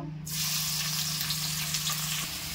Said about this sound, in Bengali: এবার ওই তেলের মধ্যেই বেরেস্তাগুলো ভেজে নেব।